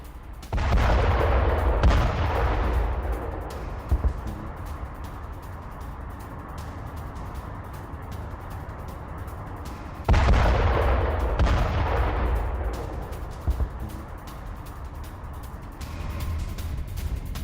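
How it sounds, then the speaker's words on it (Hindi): Two heavy explosions from night air strikes between Karaj and Tehran, each a sudden loud blast followed by a long rumbling roar that slowly fades, the second arriving about eight seconds after the first. "करज़ और तेहरान के बीच रात में भारी बमबारी हुई। हमले की आवाज से तेहरान में फैली दहशत।"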